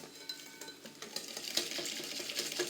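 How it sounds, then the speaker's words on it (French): A whisk scrapes and taps quickly around a bowl of cake batter, a close, quiet rhythm of light clinks and swishes that grows slightly busier toward the end. "Et on mélange bien,"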